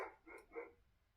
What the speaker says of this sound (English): This is not aggressive barking, if you can hear him. This is come down and say hello barking.